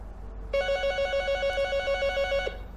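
A landline telephone connected to a Jazz 4G home router rings after being dialed from a smartphone, giving one steady warbling electronic ring burst of about two seconds, close and clear against a quiet room.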